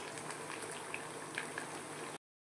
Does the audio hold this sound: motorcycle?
no